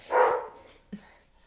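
A dog gives one loud, close bark, followed about a second later by a short, fainter yip.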